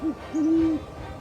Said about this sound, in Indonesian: Suara paling khas adalah suara mendengung